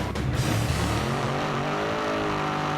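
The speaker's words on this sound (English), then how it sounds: "You're on board the tire heating burnout inside the Harry Ruska-owned Camaro of Don Walsh." A Pro Modified Chevy Camaro drag car roars through a tire-heating burnout at the drag strip, a loud harsh engine blare that settles into a sustained high rev with tire noise mixed in.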